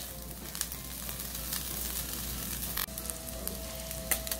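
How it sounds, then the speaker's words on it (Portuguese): Bacon sizzles and spits in a pan with a spoonful of oil, a steady crackling fry with scattered pops and one brief clatter partway through, no voices. "eu vou deixar o meu bacon fritando aqui e já já eu volto"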